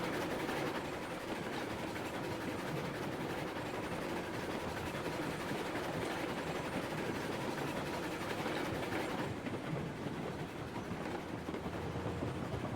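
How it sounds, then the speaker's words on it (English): A train in the Railroads Online video game rolls along as it is brought to a stop, a constant rumbling wash of wheels and engine noise that stays steady and moderately loud throughout. "I'm just going to stop the train first."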